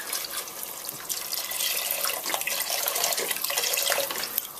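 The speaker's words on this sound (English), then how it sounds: "Now pour in 1 litre of vegetable stock." Vegetable stock, a litre of it, poured into a pot of peanut soup with pasta sauce, a continuous soft splashing and trickling stream that swells slightly, close and fairly quiet, with no talking.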